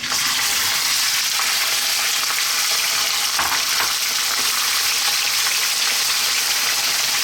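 Lamb pieces for methi gosht hit a hot curry pan and fry with a loud, steady, close sizzle that hisses continuously, with a few crackles and stirring scrapes and no talking.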